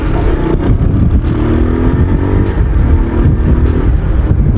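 A Bajaj Pulsar 150 DTSi motorcycle with about 90,000 km on it runs steadily, a close, loud, continuous engine drone with faint clatter and no talk.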